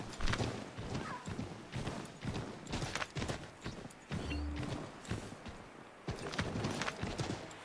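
Horse hooves in Assassin's Creed 3 clip-clop in a steady walking rhythm on hard ground, close and clear, with faint background ambience.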